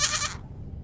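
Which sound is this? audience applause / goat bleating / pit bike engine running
goat bleating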